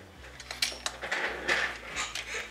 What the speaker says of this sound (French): je passe ça dans la Big Shot.